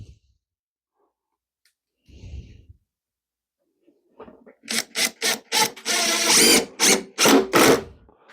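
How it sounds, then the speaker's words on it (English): A power drill drives screws into the lid of a wooden sparrow nest box: a brief quiet burst, then a run of loud, close whirring bursts in quick succession, one held longer, with no talking. "I've pre-drilled some holes to screw it on"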